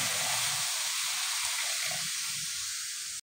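Boiled milk poured into a pan of fried sago gives a strong steady hiss and steamy rush, with low bubbling underneath, then cuts off abruptly near the end.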